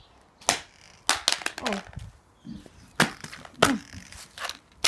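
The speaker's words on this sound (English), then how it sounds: "They're smashing this house phone." A corded landline house phone is smashed against a hard surface, giving several sharp plastic cracks and clatters in irregular bursts, with short exclamations and brief talk between the impacts.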